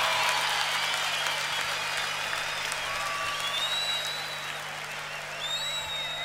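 A concert audience claps and cheers for the singer at a show, a steady wash of applause from a large crowd heard at a distance, with a few whistles rising above it.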